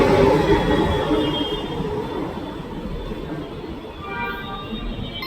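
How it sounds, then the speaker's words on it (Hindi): A Delhi metro train pulls away from the station platform, a loud rolling rumble and clatter that gradually fades, with faint whining tones near the end and no talking. "देखा कि अब मेरे दूसरी तरफ का जो मेट्रो है वो जा रहा था।"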